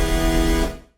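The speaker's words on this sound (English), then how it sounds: "almost slapback delay type reverb sound that sounds like this" A sustained synth lead note with a short, dense small-room reverb that behaves almost like a slapback delay, ringing steadily before decaying quickly to silence at the end.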